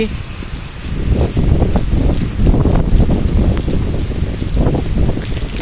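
Heavy rain during Cyclone Remal, a loud continuous wash of rain on surfaces mixed with gusting wind buffeting the microphone, with a voice briefly audible.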